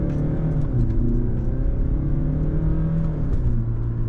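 A 2021 Mercedes C220d diesel in sport mode pulls away under acceleration, a steady, loud engine drone with rising harmonic tones that climbs in pitch, heard from inside the cabin with no talking.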